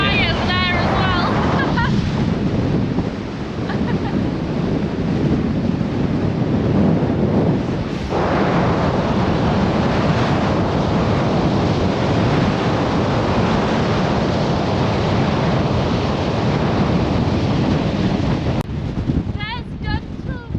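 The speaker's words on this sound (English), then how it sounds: "It's so windy you probably can't hear what I'm saying." Heavy wind buffets the microphone in a loud, rumbling roar that nearly swamps everything near Dunstall Castle, easing briefly near the end.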